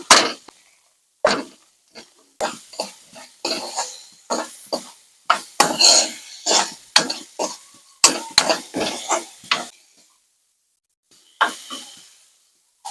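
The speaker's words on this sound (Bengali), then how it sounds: "পেঁয়াজের সঙ্গে এবার আমি আলুগুলো দিয়ে দিচ্ছি। আলুগুলোকে আমি একটু ছেনে নেব।" A spoon or masher scrapes and knocks in a pan as boiled potatoes are mashed together with onions for an egg curry, making a run of sharp, irregular clinks and scrapes with brief pauses and no talking.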